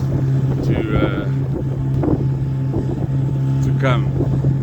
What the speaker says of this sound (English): All these engines here are like little 15 to 10 horsepower Yamahas or Tatsus or Suzukis